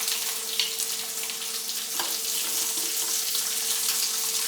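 Bacon sizzles steadily in a pan as a 1975 cactus corn recipe is cooked, a dense, continuous crackling hiss with a faint running tone and a few small pops, close and alone with no talk.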